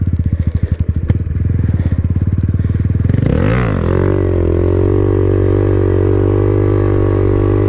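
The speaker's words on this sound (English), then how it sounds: "See how the bike is just kind of smoothly rolling." A Honda Grom motorcycle rolls slowly while held in a wheelie, its small engine putting out a steady low drone after a brief bout of rapid, throbbing pulses; the sound is close and continuous, with no talking.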